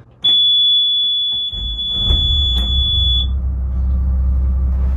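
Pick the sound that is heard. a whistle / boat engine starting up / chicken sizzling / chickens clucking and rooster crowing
boat engine starting up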